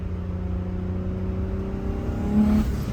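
A turbocharged M50 engine in a BMW E30 revs up close and loud at about 20% throttle, its steady droning tone climbing slightly in pitch before swelling briefly near the end, with no voices.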